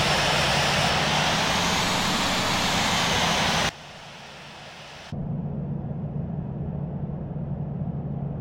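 Steady jet engine drone of an airliner taxiing to runway 23 in the Infinite Flight simulator, loud and continuous, dipping abruptly to a quieter level partway through before settling back into a lower, even hum.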